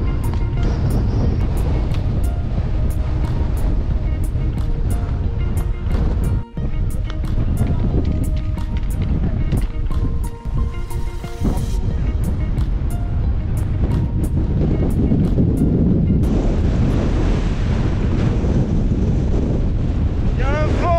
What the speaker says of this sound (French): Il y a un vent, c'est la folie.